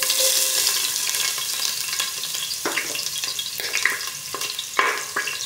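Ginger dropped into a hot pan with oil fries with a steady, close sizzle, broken by several sharp scraping stirs of a spatula against the pan.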